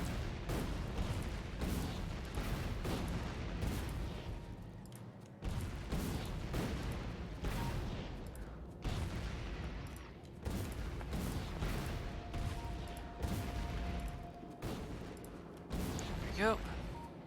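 Repeated booming blasts tear through a forest in a video game, loud bursts recurring every few seconds with a steady rumble of gunfire-like crackle between them.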